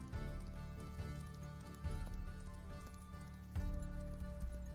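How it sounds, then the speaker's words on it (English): Distant horses and hounds as a fantasy sound effect, a muffled patter of hoofbeats with a low rumbling bed that swells in bursts, no voices over it. "the horses and the hounds that you hear in the distance is almost assuredly the Wild Hunt"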